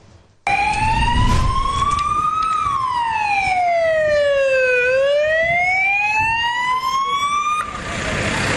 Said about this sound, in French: Les sirènes des ambulances ne cessent de retentir au cimetière de Yoff.